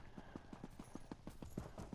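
Horse hooves clip-clopping in the Elder Scrolls Online game, a steady rhythmic trot of close, even hoofbeats repeating quickly throughout, with no talk over them.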